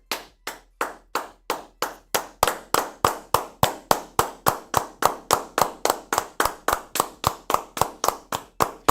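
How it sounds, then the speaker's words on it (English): One person clapping for a viewer on a live sports talk show, a long run of about thirty sharp, evenly spaced claps that grow slightly louder and quicker, close and alone. "Clap it up for Tanner"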